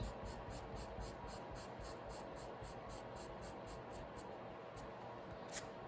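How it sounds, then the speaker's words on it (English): An eraser rubbing out pencil marks on drawing paper, a faint, steady, rhythmic scratchy scrubbing of quick back-and-forth strokes, close and alone. "I'm going to take my eraser and erase a lot of this out"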